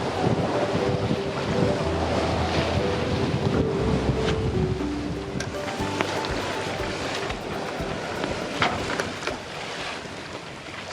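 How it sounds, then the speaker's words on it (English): Wind buffeting a sailing boat under way at sea at around 14 knots, a loud continuous rushing roar with low microphone rumble and faint water wash, no talking. "We've got a good wind now."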